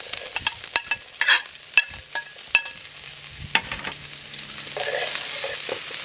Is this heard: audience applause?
no